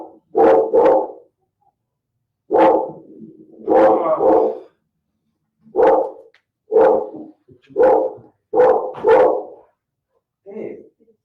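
A dog barks repeatedly in short single and double woofs, spaced irregularly over several seconds and fairly close, with no talking in between.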